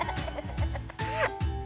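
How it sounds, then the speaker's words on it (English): A roly-poly chicken toy gives a rooster-like clucking sound in a few short, loud bursts close by, with a bit of giggly, laughter-like tone mixed in. "playing with a roly-poly chicken"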